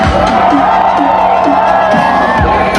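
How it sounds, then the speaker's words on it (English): A large crowd at the Night Nation Run screams and cheers loudly and steadily, with whoops and shouts layered over the outdoor event din. "Let me hear you scream one more time."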